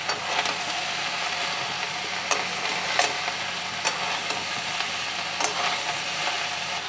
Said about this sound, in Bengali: চিচিঙ্গাগুলো দিয়ে আমি খুব ভালোভাবে পেঁয়াজের সাথে চিচিঙ্গাগুলোকে মিশিয়ে নেব।